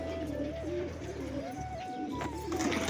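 Pigeons coo steadily inside a loft where they are being watered, their low, repeated calls close and continuous throughout.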